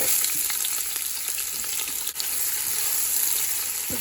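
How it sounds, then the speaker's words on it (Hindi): Sliced onions frying in hot oil in a pot for a beef tikka boti pilau, a loud, dense, continuous sizzle heard close up, with a few faint stirring clicks and no talk. "ऑयल हमारा गर्म हो चुका है। अब हम इसमें प्याज डालेंगे।"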